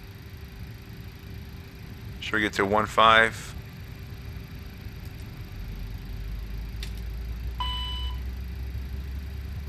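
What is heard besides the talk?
CRJ-200 right jet engine starting up in X-Plane 11 video game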